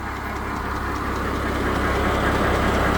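A farm tractor idles with a rotary tiller attached, giving a steady, loud, close rumbling drone with faint mechanical knocking throughout, while the tiller's driveshaft turns but the tiller itself is stuck from a fault; no talk.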